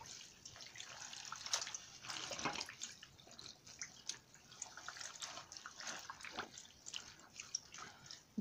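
Water splashes and trickles in a basin as clothes are soaked in cold water, a faint, continuous wet sloshing with scattered drips and no voices.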